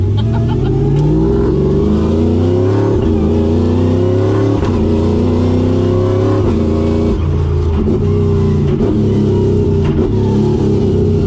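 A work truck fitted with a sequential gearbox accelerates hard, its engine roaring loud and close, with revs climbing and dropping sharply through quick upshifts with a shift cut.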